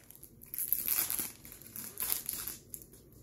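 A foil Topps Stadium Club 2018 baseball card pack is torn open up close, giving two quick crinkly ripping bursts with soft rustling between them and no talking.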